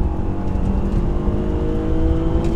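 An Audi A3 3.2 pulls hard in third gear down an airstrip, its engine droning loud and steady with a strong, continuous low roar.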